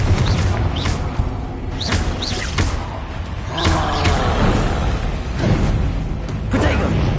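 Repeated spell blasts from a Hogwarts Legacy duel, with booming bursts and swooshing casts crashing at irregular intervals over a dense, loud bed of combat noise and game music.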